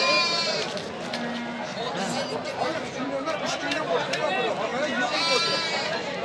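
Goats and sheep bleat among the chattering crowd at the Gurumsaroy livestock bazaar in Namangan, Uzbekistan. Several close, wavering bleats rise over constant market voices.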